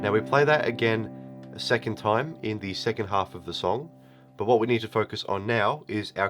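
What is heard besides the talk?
No everyday noise stands out behind the speech.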